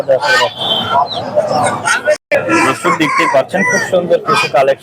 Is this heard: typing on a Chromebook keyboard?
no